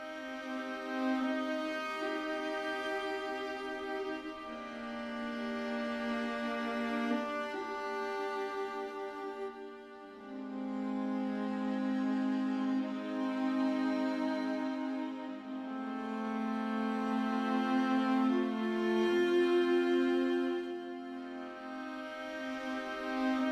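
Sampled solo strings, violin, viola and cello, play soft sustained chordal textures with shifting intervals, two long phrases of gently swelling harmony, quiet and alone.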